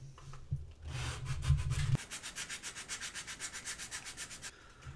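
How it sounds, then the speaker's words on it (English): Rhythmic sanding strokes on plastic toy gun lettering, back and forth at a steady quick pace, close up, after an initial rough rubbing burst with a low rumble. "Go ahead and sand that."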